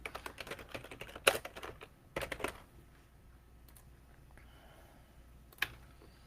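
Typing on a computer keyboard while updating a caption during a stock market livestream. Rapid, close key clatter comes in quick bursts with a couple of louder strikes, then trails off into near quiet with one last keystroke.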